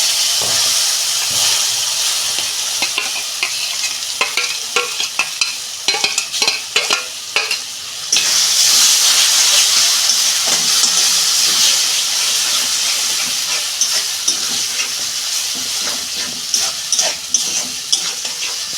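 Pointed gourd added to fried onions and chillies sizzles steadily in a pan while a utensil stirs and scrapes in quick bursts, the hiss swelling louder partway through.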